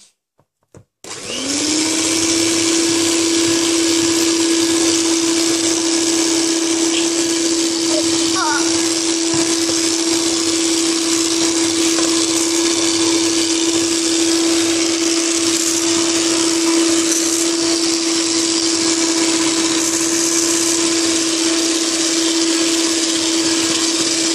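Electric mixer with swapped attachments whirring steadily for a long stretch as sifted flour and baking powder are mixed into chocolate muffin batter, a loud continuous motor drone with a high whine, no talk.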